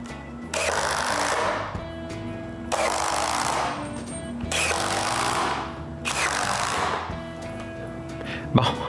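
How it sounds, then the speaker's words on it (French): Power screwdriver driving screws into wooden cat tree parts, four long buzzing runs each fading as the screw seats, close and loud with brief pauses between. "je peux visser tous les morceaux à leur place."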